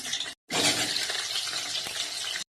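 Onion-tomato spice paste for a rohu fish curry with potato and cauliflower fries loudly in hot oil, a dense close crackling sizzle broken by a brief gap near the start and cut off just before the end.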